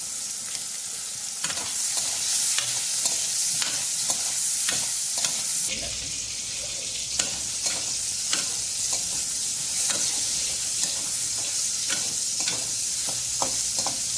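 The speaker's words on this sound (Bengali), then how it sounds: "বেগুনটা হালকা লাল লাল করে ভাজতে হবে।" Eggplant frying in a pan with salt and turmeric, a steady close sizzle with frequent scraping and stirring strokes of a spatula against the pan, no voices.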